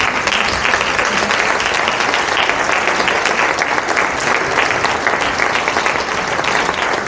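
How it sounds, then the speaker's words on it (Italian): An audience at an outdoor-style band concert gives sustained, dense applause to welcome a young soprano, a steady roar of many hands clapping at even loudness throughout. "della soprano Maria Chiara Papale, che accoglierei con un calorosissimo applauso"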